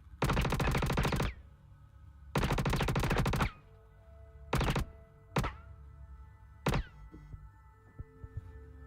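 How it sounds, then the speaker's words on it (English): Bursts of automatic gunfire hammer at a ship in the space game Star Citizen: two long rapid volleys, then several short bursts, loud and close, each followed by ringing metallic resonance and quiet pauses. "I put 2 magazines on it, and it's still not opening."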